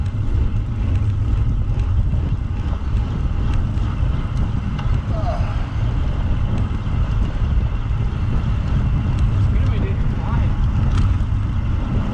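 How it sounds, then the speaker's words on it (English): Steady, heavy wind rush buffeting the microphone during a ride with a decent tailwind, a constant low roar filling the whole stretch with faint voices underneath. "Pretty decent tailwind now."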